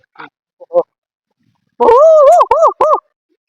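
A person mimics a small dog barking, a few short nasal yips followed by a longer run of high whiny bark-like calls, close and loud.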